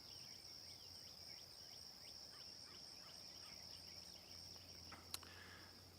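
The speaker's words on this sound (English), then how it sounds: "crickets and the birds." Crickets chirp steadily in a quiet garden at sunrise, a faint, continuous high trill with scattered soft bird calls behind it.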